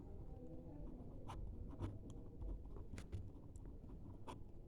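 Chalk or marker writes on a board in a logic class, giving soft, rapid scratching strokes in short bursts against a quiet room, with no speech.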